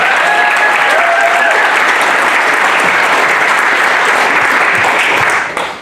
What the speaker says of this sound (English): Please give a warm round of applause for Mr. Shane Todd.